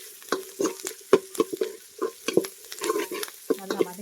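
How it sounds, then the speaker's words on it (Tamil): Garlic cloves and four slit green chillies sauté in a pan, with a soft sizzle under repeated scraping stirring strokes, close and clear in a quick uneven rhythm. "பச்சை மிளகாய் கீரி வச்சது ஒரு 4, இதை போட்டு நல்லா வதக்கிக்கோங்க."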